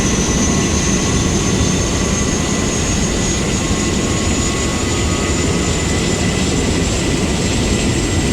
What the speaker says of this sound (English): the APU is spooling up